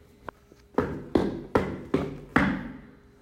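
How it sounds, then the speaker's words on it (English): Knocking on a door in a stage production of Macbeth: five loud, heavy knocks at an even pace, close and sharp, after a faint tap or two, with no talking. "Whence is that knocking?"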